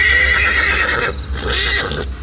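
A horse neighs loudly and alone, a bright, wavering whinny that rises, breaks off and resumes over about two seconds, close and clear as a sound effect.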